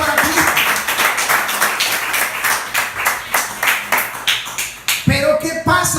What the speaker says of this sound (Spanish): Ese aplauso que sea para Cristo.